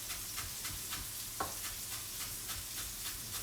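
Vegetables for a vegetarian frittata frying in butter and olive oil, giving a soft, steady sizzle with faint stirring scrapes and one brief clack, quiet and close with no talking.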